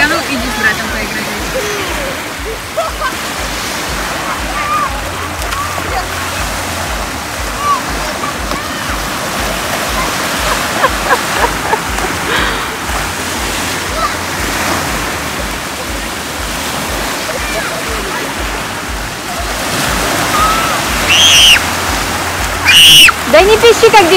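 Sea waves wash over a beach in Odessa in a broad, continuous roar that swells and recedes, with a few brief splashes near the end.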